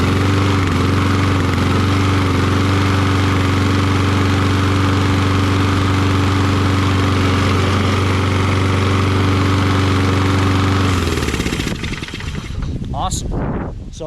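A Kohler XT675 engine on a Toro self-propelled mower runs at a steady, loud idle after a governor reset, then abruptly cuts out near the end, leaving handling noises.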